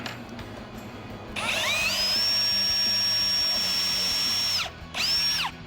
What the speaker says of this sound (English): we're gonna drill some pilot holes in there as well